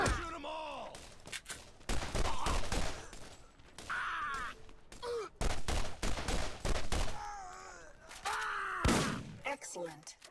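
Gunfire in the video game Borderlands comes as repeated bursts and rapid volleys of shots, loud and close, mixed with grunts and cries from characters and other game effects.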